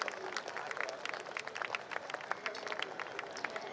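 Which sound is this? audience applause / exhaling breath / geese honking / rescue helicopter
audience applause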